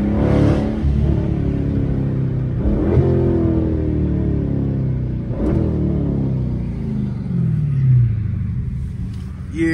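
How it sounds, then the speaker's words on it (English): 2015 Dodge Charger SRT 392 with a mid muffler delete, loud V8 rumbling through several aggressive downshifts, each a sharp rev blip with a dropping engine note and crackling pops, heard from inside the car. "definitely aggressive downshifts"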